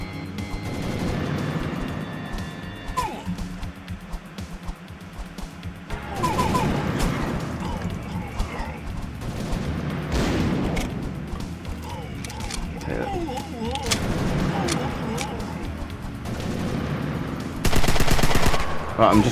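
Video game gunfire from a Sten submachine gun, heard as repeated bursts of rapid automatic shots mixed with mechanical clatter, moderately loud and steady over about twenty seconds.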